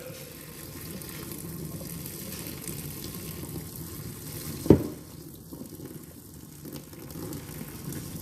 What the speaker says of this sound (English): So quickly drain the water.